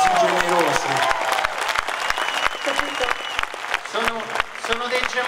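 Theatre audience applauding warmly at a show at the Teatro del Perdono in L'Aquila, dense close clapping with a voice talking over it and crowd murmur.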